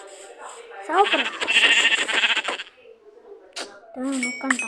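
Several sheep bleats from the Minecraft video game, a wavering bleat near the start and another toward the end, with people talking over and between them.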